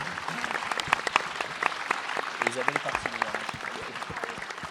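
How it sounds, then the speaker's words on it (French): Audience applause after a film screening and debate: a loose patter of individual claps at moderate level, mixed with some voices. "Alice Mora et Isabelle Lusignan, qu'on peut applaudir"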